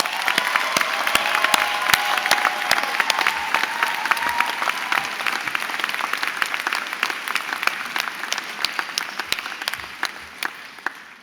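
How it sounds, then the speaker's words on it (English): A large audience at a university graduation ceremony applauds steadily and loudly for about eleven seconds, with dense continuous clapping and faint cheering mixed in. "give them a round of applause"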